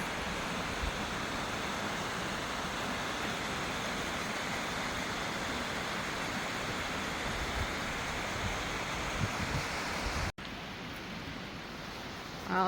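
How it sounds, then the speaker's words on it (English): Eagle River waterfall on the Keweenaw Peninsula, Michigan: a steady, broad rush of falling water filling the scene, close and continuous, with a brief cut near the end. "Just 5 miles up the road, we find the Eagle River waterfall"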